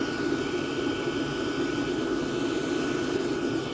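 A workshop diesel heater runs with its intake filter removed, giving a steady, loud, close-up roar with a hissy, higher-pitched whoosh that holds unchanged throughout, with no talking.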